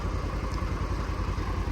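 Tractor engine idling close by, a steady low rhythmic chug with even pulsing throughout and no voices.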